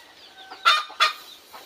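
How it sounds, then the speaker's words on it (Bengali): Desi hens on a free-range farm give two sharp, close clucks in quick succession, followed by a softer one against a quiet background. "দেশি মুরগি আরেকটা।"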